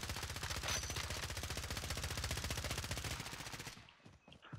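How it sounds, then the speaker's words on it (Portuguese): Rapid automatic gunfire rattles continuously for several seconds, then breaks into a few scattered shots; sounds like game audio, fairly faint. "Tá um tiro, Gabriel."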